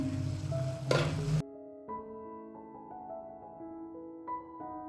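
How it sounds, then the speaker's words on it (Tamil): A spoon scrapes and stirs curry masala into mutton frying in a pan, with a brief burst of sizzle and clatter at the start, then quieter scraping and metallic ringing against the pan. "இப்போ கறி மசாலாவை நல்லா கறி கூட மிக்ஸ் பண்ணி விட்டுறலாம்."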